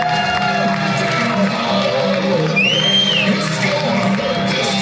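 A comedy-night audience at Spirits Music Hall cheers, whoops and claps for a comedian being introduced, a dense, sustained crowd roar with a bright whistle rising through it.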